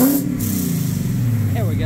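A Coyote V8 swapped into a 1969 Ford F100 truck runs with a steady low drone and gives a quick rev blip, close up, over a couple of seconds.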